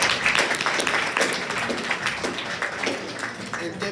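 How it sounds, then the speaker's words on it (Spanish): Applause for a presenter named Jorge at the close of a medical case talk, steady dense clapping with sharp hand taps running through the whole few seconds, fairly close and loud, with some voices mixed in. "Un fuerte aplauso para Jorge"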